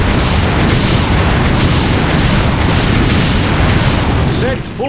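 Booming cannon broadside from a sailing ship in Anno 1602, a dense, loud rumbling roar of overlapping blasts that holds steady, then tails off as brief chirping tones appear at the end.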